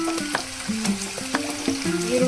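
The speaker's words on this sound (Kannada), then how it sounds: "ಈರುಳ್ಳಿ ಸ್ವಲ್ಪ ಚೆನ್ನಾಗಿ ಫ್ರೈ ಆಗಬೇಕು." Onions crackle and sizzle in a hot pan in a steady, close hiss, with a sustained stepping melodic tone running over the frying throughout.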